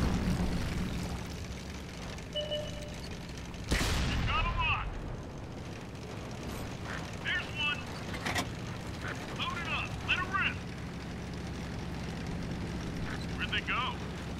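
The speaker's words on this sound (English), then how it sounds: "now I know that I'm getting shot at from up over there" Shells striking a tank in World of Tanks, a burst of heavy explosive impacts and crashing hits landing over a low game rumble, with talk running through the clip.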